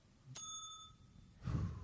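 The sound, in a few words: bell being dinged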